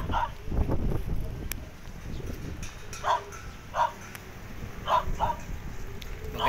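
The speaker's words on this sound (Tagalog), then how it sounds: "Kaya lang may aso eh." A dog barks several times at a distance, scattered single barks over gusty wind noise and some background voices.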